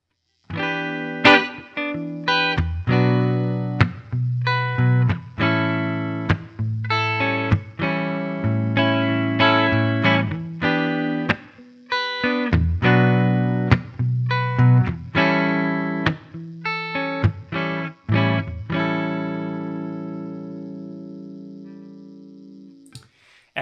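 Clean electric guitar chords from an Epiphone SG's humbucker rhythm pickup, direct signal, strummed in a steady rhythm, dry and upfront, with repeated strikes and a final chord left to ring out.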